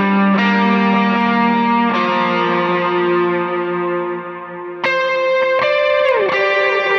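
Electric lead guitar playing the lead part of a song: a few sustained, effect-laden notes with distortion and echo ringing into each other, with new notes picked near the start, middle and end, loud and alone.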